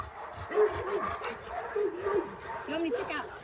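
A Rottweiler at a kennel gives short whimpering yips and barks in several bursts, fairly close, mixed with other low vocal sounds.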